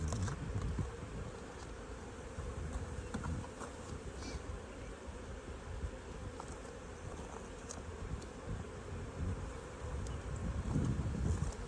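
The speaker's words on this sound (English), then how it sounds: "More and more bees, which is good. This species is buckfast." Buckfast honeybees buzz around a growing hive in Alaska in May, a continuous low swarming hum with occasional nearer fly-bys, fairly faint and steady throughout.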